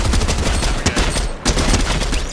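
A full-auto gun fires in Fortnite, loud and close, with rapid continuous bursts broken by two brief pauses.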